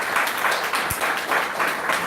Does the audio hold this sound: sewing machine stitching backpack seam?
no